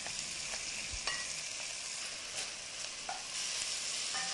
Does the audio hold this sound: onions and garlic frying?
yes